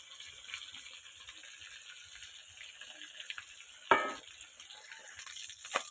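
Fish head frying in a pan, a soft steady sizzle running throughout, fairly faint, with a couple of sharper clinks or splashes near the end.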